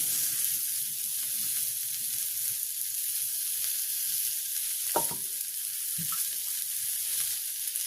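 Onion and chilies sizzle steadily in oil in a pan in a village kitchen, a constant close frying hiss with a couple of brief clanks from stirring near the middle.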